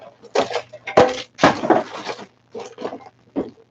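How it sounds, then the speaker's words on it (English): Metal 3D printer hot ends clatter onto the floor in a handful of sharp, irregular knocks and rattles, close and fairly loud with short gaps between impacts. "That's the sound of me dropping hot ends on the floor."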